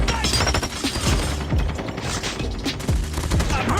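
Rapid gunfire and explosive bursts from the AS Val assault rifle in a Call of Duty match, dense and loud throughout with repeated sharp shots layered over game effects.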